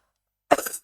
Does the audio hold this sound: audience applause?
no